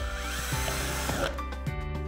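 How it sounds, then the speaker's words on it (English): Close by, an electric drill with a 3mm bit whines steadily as it bores holes for a lamp holder, its pitch wavering under load before easing off. "put in the 3mm drill bit and drill the holes"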